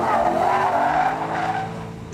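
Sports car with a V8 engine driving fast, heard as a loud, close, sustained engine roar with tire noise that eases off slightly toward the end, with no talk.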